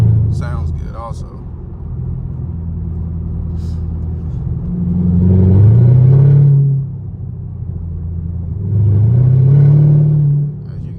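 Catless sixth-generation Chevrolet Camaro SS V8 exhaust with factory dual tips, a deep close rumble at idle swelling into two loud revs, with a person speaking briefly at the start.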